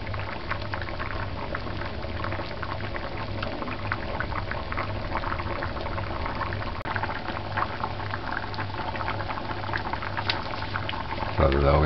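Salt codfish stew peas bubbling in a pot on a stove set around medium-high, a continuous close boiling burble with a steady low hum, rising slightly louder at the very end.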